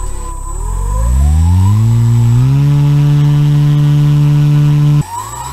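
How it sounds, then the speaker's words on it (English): A small homemade BLDC motor spins a propeller, spinning up over about two seconds into a loud steady whine with strong harmonics, then cutting off abruptly near the end. "I then had a little bit more fun with different propellers."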